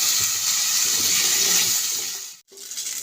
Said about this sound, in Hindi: अब मैं इसमें अरबी को डाल करके अच्छी तरह से फ्राई कर लेती हूँ।